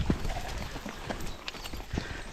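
Two horses walking make scattered hoof clip-clops, faint to moderate, over outdoor background noise during a dog walk, with no clear talk.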